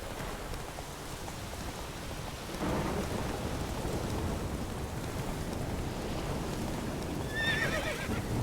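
In The Witcher 3, a horse neighs and its hooves thud through a steady downpour, with rolling thunder and constant rain filling the scene and a sharp whinny rising near the end.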